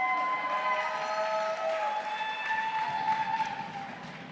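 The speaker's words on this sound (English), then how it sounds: "please clap, please cheer, make a joyful noise for these graduates" A large crowd at a university commencement claps and cheers for graduates, a sustained roar of applause with whoops and whistles that slowly fades toward the end.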